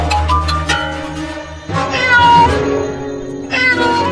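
A cat meows loudly and close by in a run of drawn-out, wavering cries, with short pauses between the calls.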